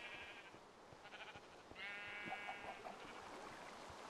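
Sheep on a Minecraft farm bleat in several short, wavering calls from the video game, fairly faint, one after another over a quiet background.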